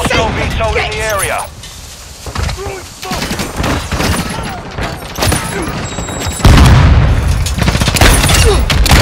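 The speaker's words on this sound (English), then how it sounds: "Hostile missile in the area." A missile strike in Call of Duty: Modern Warfare II sets off heavy booms and rolling blasts among bursts of gunfire, growing loud and dense toward the end while players talk over it.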